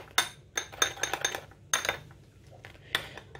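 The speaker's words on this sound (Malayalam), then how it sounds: "നല്ലവണ്ണം ഒന്ന് ഇളക്കി യോജിപ്പിക്കുക" A spoon stirs and mixes a paste in a bowl for a foot treatment, giving a series of sharp clinks and scrapes in irregular bursts, close by and fairly quiet, with no talk.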